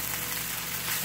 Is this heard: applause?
no